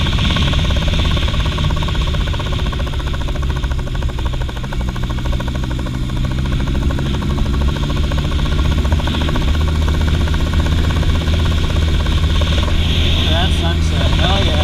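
A Honda Rebel motorcycle being ridden at sunset, with a loud, steady engine drone and heavy wind rumble throughout, the pitch shifting slightly near the end.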